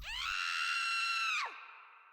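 A single sustained, piercing scream rings out loud and steady for over a second, then breaks off sharply into a fading echo.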